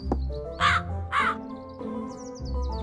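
A crow in an animated fairy tale caws twice in quick, loud, harsh calls, followed by fainter chirping and a soft background music bed.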